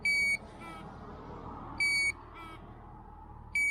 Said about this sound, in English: That is a piercing alarm.